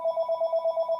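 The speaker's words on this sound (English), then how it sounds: "Okay, there's my phone." A phone rings close and clear, a steady electronic warble pulsing rapidly through one short burst.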